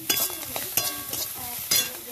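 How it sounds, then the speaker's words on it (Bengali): Small shrimp fry over a clay stove in a village kitchen: a busy hiss with sharp clinks and scrapes of stirring at a few moments, fairly close. "এবার ভাজছি কুচো চিংড়ি"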